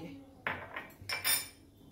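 A clay kulhad tea cup is turned over while it heats for tandoori chai, giving a few close, hard clinks and scrapes of earthenware against a metal surface in a quiet kitchen.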